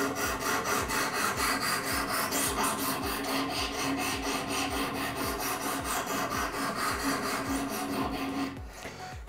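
A badly worn TRUD VACHA knife is sharpened on a guided sharpening system, giving a steady, loud rhythmic rasping of the stone stroking back and forth along the blade that runs almost continuously and then tails off at the end.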